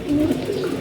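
Pigeons in a loft give a low, continuous cooing drone, close and steady, with a steady murmur of other birds in the background.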